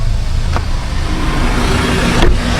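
A car is being parked in a parking lot, a steady close engine and road rumble with two brief clicks or thumps, no talk.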